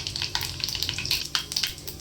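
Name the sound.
cumin and mustard seed tempering sizzling in hot oil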